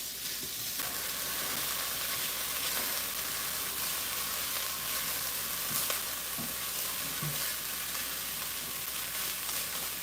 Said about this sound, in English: we're gonna add the white rice in. Okay. Just mix that around.